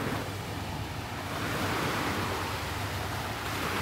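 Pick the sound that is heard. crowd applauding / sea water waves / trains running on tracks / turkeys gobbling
sea water waves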